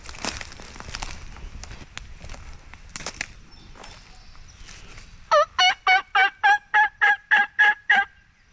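A wild turkey tom gobbles in a rapid burst of about ten loud, evenly spaced rattling calls near the end, after a stretch of rustling and footsteps through brush during a Michigan hunt.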